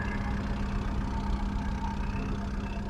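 A steady, low engine idle hums evenly throughout, close by, with no revving and no voices.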